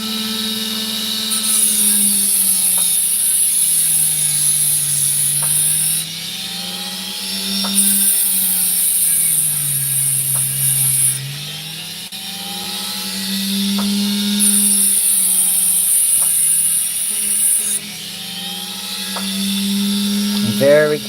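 A power tool with a whining motor cuts and shapes ridge opal stone, its pitch rising and falling in long passes while a higher grinding screech comes and goes, close and loud throughout.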